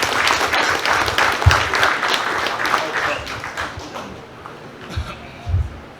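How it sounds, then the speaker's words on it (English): Applause from the audience at a boxing press conference, a burst of clapping that gradually thins out, with voices over it and a few low thumps from the microphone. "Orlando, round of applause."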